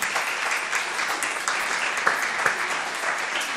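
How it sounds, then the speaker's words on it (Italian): An audience in a hall applauds a few guests present at an event, a steady, dense wash of clapping at moderate level that holds evenly throughout. "facciamo un applauso anche a loro che sono qui"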